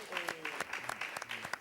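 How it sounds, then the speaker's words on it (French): Applause on a football television programme, a few loose claps mixed with overlapping voices, fairly faint and uneven. "bravo, applaudissez"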